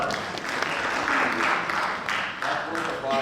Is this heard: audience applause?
yes